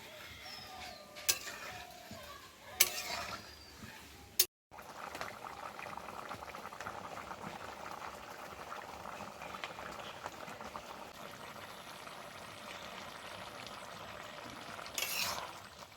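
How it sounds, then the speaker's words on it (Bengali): A fig and potato curry boils in a pot after water is added. A few sharp knocks and a brief cut are followed by a soft, steady bubbling simmer that continues evenly at low volume. "এবার এর মধ্যে দিয়ে দেবো পরিমাণ মতো জল। এবার এটাকে খুব ভালোভাবে ফোটাবো।"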